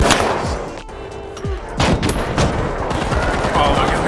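Bursts of rapid automatic gunfire and single shots crack out in the first-person shooter The Finals, loud and close, mixed with in-game impacts and effects.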